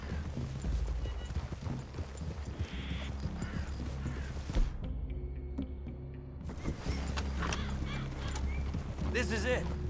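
Horses' hooves clip-clop and a horse whinnies in Red Dead Redemption 2, steady trotting under game voices and music, with a quieter gap midway before the hoofbeats and chatter resume.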